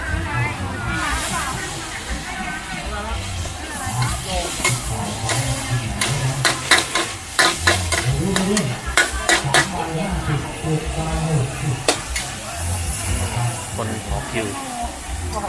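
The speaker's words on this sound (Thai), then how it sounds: "นี่ผัดแบบกระทะต่อกระทะเลยนะฮะผัดแต่กระทะต่อกระทะเลย" Metal utensils scrape and clatter rapidly against a wok as pad thai stir-fries amid sizzling hiss, with a voice talking over the busy cooking noise.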